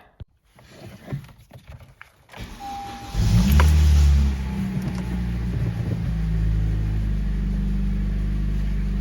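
Honda Civic engine starting after a clutch install: a few faint clicks and clunks, then a loud cranking catch that settles into a steady, close idle hum.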